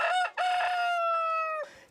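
A rooster at an animal show in Luçon gives one loud, close cock-a-doodle-doo, a short opening note followed by a long sustained ringing call that cuts off abruptly.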